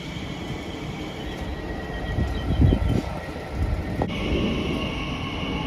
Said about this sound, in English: now departing is 345011 en route to Heathrow Terminal 4 from Abbey Wood.